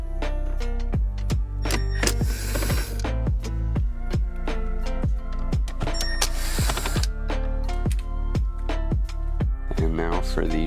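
Repeated metallic ratchet clicks in rapid bursts while a bolt is removed during a stereo install in an Infiniti Q50, close and fairly loud, with brief pauses between runs and no talking.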